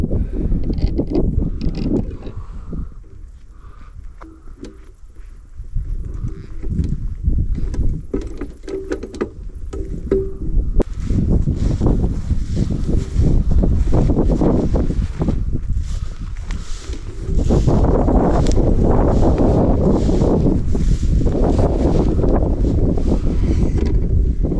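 Wind on cliff tops buffets and roars around a tarp shelter, gusting louder in the second half, with rustling and flapping in steady heavy rumble and no talk.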